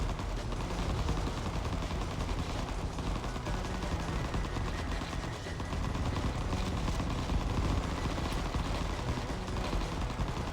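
Rapid, relentless gunfire from the video game Vital Shell, a dense stream of shots pouring out continuously and loudly with no pauses, under a layer of game noise.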